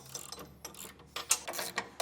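Bolts on a Demco Autoslide 5th wheel hitch are tightened in a 2025 GMC Sierra 2500, giving a quick ratcheting wrench clicking in short irregular bursts. The sound is close but fairly quiet, with no talking.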